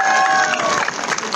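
Applause and cheering from a large crowd at an outdoor political rally in Ambala, a dense, continuous roar of clapping that carries on steadily for the whole moment.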